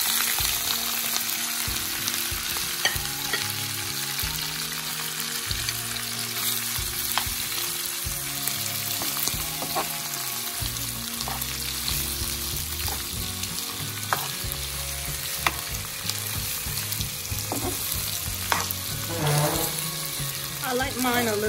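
Beef tongue fries in olive oil and tomato paste, with butter added, for a Creole sauce. A loud, continuous sizzle runs throughout, with stirring scrapes and pan clatter in the foreground.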